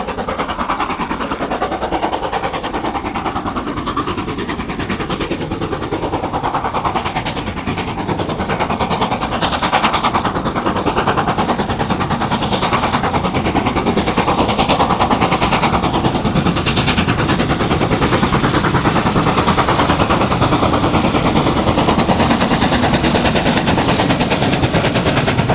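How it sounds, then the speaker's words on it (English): Steam locomotive 6201 Princess Elizabeth working hard across Birkett Common on the Settle–Carlisle line, a loud, continuous rapid chuffing exhaust beat with rumbling wheels that builds as the engine draws near. "6201 Princess Elizabeth crossing Burkitt Common on the S&C in 2008."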